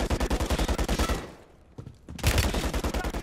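Rapid automatic fire from a sentry gun in Call of Duty Modern Warfare 3, a dense, loud stream of shots that breaks off briefly with a single stray shot in the gap, then resumes just as heavily.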